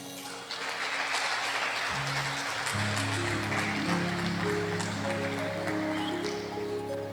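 A church congregation applauds in continuous clapping while sustained organ or keyboard chords play underneath, the clapping moderately loud and even throughout.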